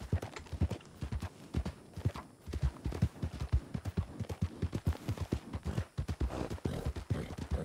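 Horse hooves clip-clop steadily on the ground in a Wild West roleplay game, the quick rhythmic hoofbeats close and continuous throughout at a moderate level.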